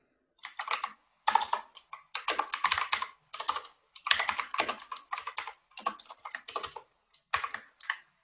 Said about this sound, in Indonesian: ketika saya mengetik di sini di editor ini